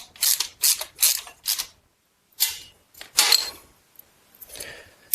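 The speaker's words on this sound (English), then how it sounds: "So we'll thread this in on the back, and we'll tighten this down here." A lag screw is tightened into an overhead garage storage rack with a ratcheting tool, giving several short close ratchet bursts separated by pauses.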